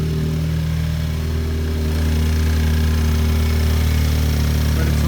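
A factory turbo car engine running with its exhaust not hooked up, a loud, steady, droning idle with strong low hum tones and a slight rise in level midway, no talk.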